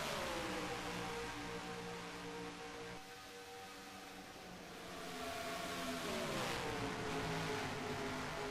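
Stock car engines drone loudly and steadily in a racing video game at Texas, the pack's roar dipping briefly and swelling again, with pitches sliding as cars accelerate after the green flag.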